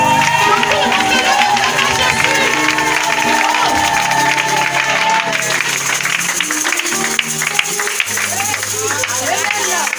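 A church congregation claps and cheers to acclaim the King of Kings, a dense, steady wall of applause and crowd noise running throughout, with music and voices blended in.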